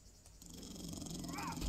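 A dog in the survival video game 7 Days To Die, disturbed by the player, lets out a low, rising growl that swells louder over a couple of seconds against game ambience.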